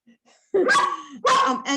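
A visiting dog barks twice, close and fairly loud, each bark a short harmonic burst with a brief pause between them, and nothing else is heard in the room.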